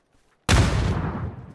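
A single grenade explosion in PUBG, a sudden loud close blast after brief silence, its deep rumble decaying over about a second.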